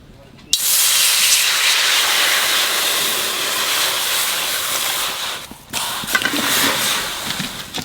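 Jackfruit boiling in a pot, releasing a loud, continuous close steam hiss that starts abruptly, dips briefly near the end and resumes, with faint clinks underneath.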